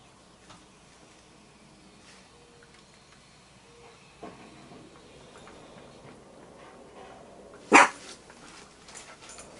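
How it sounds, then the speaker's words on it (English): A dog gives a single loud bark late in an otherwise quiet indoor stretch, with faint background hiss and a few soft knocks beforehand. "my doggy is barking"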